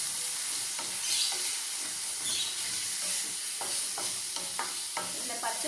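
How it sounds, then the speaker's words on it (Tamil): Chopped onions and tomatoes sauté in an aluminium kadai for crab chops, soft sizzling broken by repeated spatula scrapes and taps, close and fairly quiet, no voices. "நல்லா வதக்குங்க."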